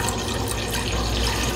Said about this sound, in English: So now, guys, we need 1 liter of water.